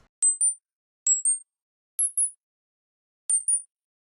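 Four short, very high-pitched sine tones from an Ableton Operator patch with no effects, each a quick pair of pings with a slight upward glide. The pairs are spaced about a second apart and stand alone against silence.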